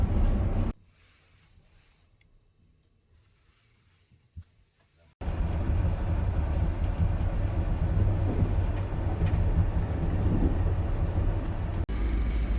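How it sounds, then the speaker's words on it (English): Busy Ljubljana train station ambience: a low rumbling hum and diffuse clatter of trains and crowd, steady and moderately loud after a brief quieter stretch. "this is the train station of Ljubljana, capital of Slovenia."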